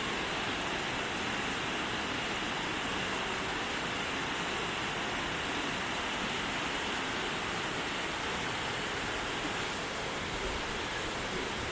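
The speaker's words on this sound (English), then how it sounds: "This is a monster waterfall." Amicalola Falls in the Appalachian foothills roars as a steady, dense wash of falling water, loud and unbroken throughout with no voices.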